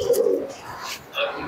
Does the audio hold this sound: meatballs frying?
no